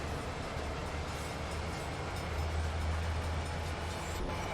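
Freight train locomotives working under power in the Train Sim World game, a pair of locos hauling a heavy general manifest uphill, giving a steady low diesel rumble that grows slightly stronger toward the end.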